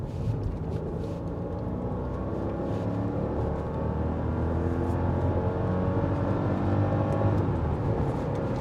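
A Mercedes car on a highway pulls hard and steadily up to 80, its pitch climbing as it accelerates, with continuous road and wind roar throughout; no voices.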